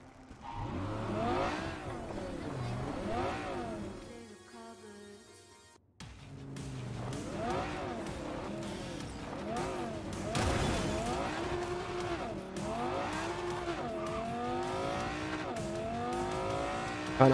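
A car in the video game Cyberpunk 2077 drives past, its engine rising and falling in pitch with revving and a tire squeal, fairly quiet overall, with a short dropout partway through.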